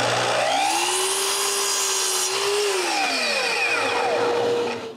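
A power saw cuts the angled ends of wooden supports for a snowmobile sled hitch in a workshop, its loud whine rising and bending in pitch through a single continuous cut that tails off near the end, with no talk.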